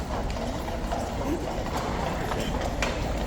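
Lifeguards' horses at Horse Guards clip-clopping as they leave, the NCO corporal of horse riding the final horse; steady hoof clops over a busy outdoor background, moderately distant.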